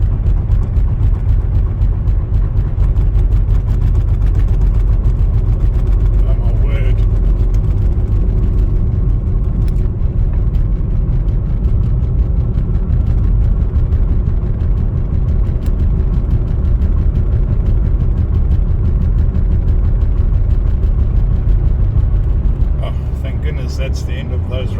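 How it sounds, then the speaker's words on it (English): A car drives along a curving road in Dubai over rumble strips, producing a loud steady low drone and road rumble throughout, with someone talking over it. "Pardon the rumble strips"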